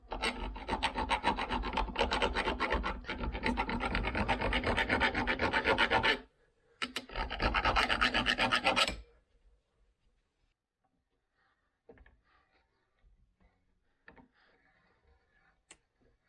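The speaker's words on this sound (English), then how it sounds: "What this tool does, it will restore your threads on a set of threads that you can't get a die on." A metal thread restoring tool files the threads on a 2004 Kawasaki KX100 two-stroke crankshaft: steady loud rasping strokes for about six seconds, a short pause, a second burst, then quiet with faint clicks and light handling noises.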